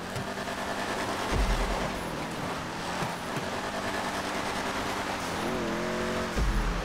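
A rally car driven in GTA V, its engine droning and rising through gear changes, with tire noise and brief thumps as it hits bumps, loud and close throughout.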